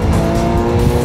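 A Porsche sports car's engine roars loudly and close up, a dense, sustained growl held through a brief burst of acceleration with no voices.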